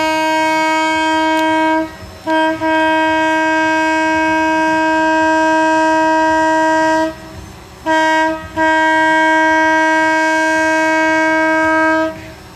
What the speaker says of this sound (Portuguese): 30 anos depois, uma locomotiva elétrica novamente habitando na nossa cidade.